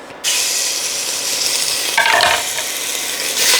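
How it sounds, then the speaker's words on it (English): Meat for a Chinese-style watercress soup drops into a hot pan and bursts into loud, close, continuous sizzling, with a brief stirring scrape midway and the hiss swelling again near the end; no speech. "Saute till it's no longer raw."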